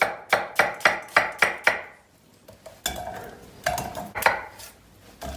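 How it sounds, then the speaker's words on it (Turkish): A knife chops onions rapidly on a board, six quick even strokes, then scraping and clattering of kitchen utensils nearby. "soğanları doğruyoruz"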